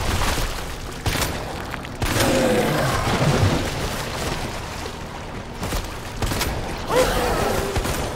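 Gunfire in the survival horror game Resident Evil 2, a few sharp booming shots at roughly one-second intervals, loud and close over a dark ambient game soundscape, no talking.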